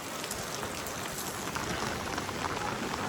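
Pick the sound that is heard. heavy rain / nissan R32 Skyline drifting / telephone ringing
heavy rain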